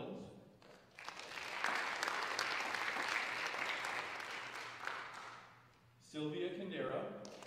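An audience at a high school Class of 2020 honors night applauds a scholarship recipient, a steady wash of clapping lasting several seconds before fading, followed by a voice speaking.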